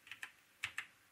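Typing on a computer keyboard, close and fairly quiet: two pairs of crisp key clicks with a short pause between them, no talk.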